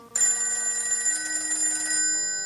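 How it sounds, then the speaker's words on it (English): Telephone bell ringing as a radio drama sound effect at a live old-time radio mystery show, one loud continuous metallic jingle lasting about two seconds, heard alone and close. "the phone in the Lawrence house on Berry Hill Lane started to jingle"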